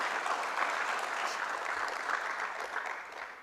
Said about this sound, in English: let's give Derek another big round of applause